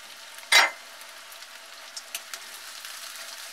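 Onions and cashews frying in a pan until light golden for chicken changezi, a soft continuous sizzle with one sharp burst early on, then faint scattered crackles and spatters, close and without talk.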